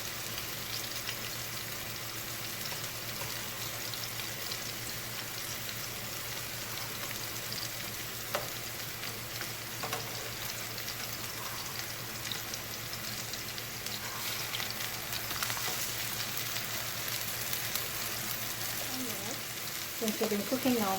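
Chicken pieces fry in a pan right after being flipped, giving off a steady, even sizzle that stays moderately loud throughout, with a few faint clinks near the end.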